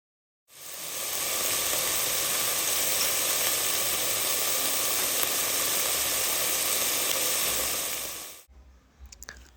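Onions and dry spices fry together in a pan, giving a loud, even, continuous sizzle that runs for about eight seconds and then cuts off into quieter clatter.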